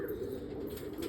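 Pigeons coo with a soft, low, rolling throaty call, heard close and continuous through a brief moment with no talking.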